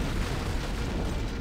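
An antimatter charge explodes aboard a ship in Halo: Combat Evolved, giving a dense, roaring blast of broadband rumble that stays loud and sustained for over a second with no voices.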